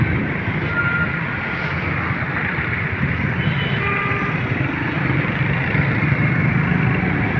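A motorbike engine runs at a steady idle-like rumble nearby while a boy learns to ride, with continuous mechanical noise and no clear speech.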